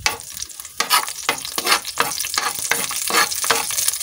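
Garlic sizzles in a hot pan, with loud bursts of frying and a utensil scraping and stirring in a quick, uneven rhythm.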